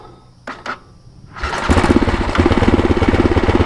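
A CanAm DS 450X dirt bike engine catches after a few short cranking bursts and settles into a loud, rapid, steady idle close by, with no talk over it.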